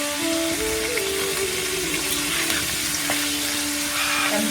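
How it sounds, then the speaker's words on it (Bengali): Vegetables are stir-fried in a pan for vegetable pulao, giving a continuous loud sizzle with scraping and stirring noises throughout and no one speaking. "এবারে পুরোটা ভালোভাবে একটু নাড়াচাড়া করে ভেজে নিতে হবে হালকা করে"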